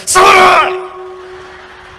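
A voice imitates a child screaming in the night, a single loud, drawn-out cry that fades into a lingering tone.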